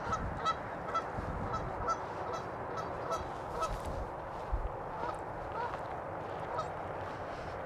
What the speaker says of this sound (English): There's another 2 geese to add to the count.